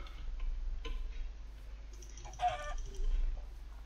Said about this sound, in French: il y a un petit poulet.